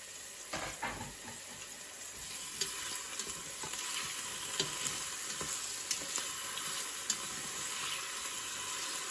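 Cooking oil frying in a pan gives a steady, close sizzle and crackle throughout, with occasional sharper pops and stirring clicks, no voices.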